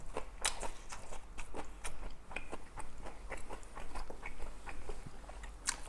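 Boiled pork slices eaten with kimchi are chewed close to the mic, giving a steady run of wet, crunchy bites and mastication sounds with no talking.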